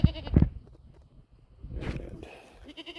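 Goats on an off-grid homestead bleating close by, two quick loud calls at the start, then a longer wavering bleat mixed with rustling farm noise.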